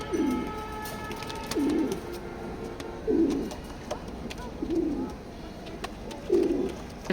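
Pigeons at a pigeon loft give five low, rolling coos in a slow, regular rhythm, each one clear and close over a faint background hum.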